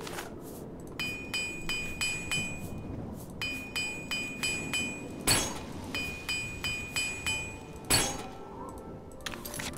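A repair hammer in the video game Oblivion strikes metal in a steady series of bright, ringing clinks, about two per second, with two heavier clanks standing out, over a soft ambient bed.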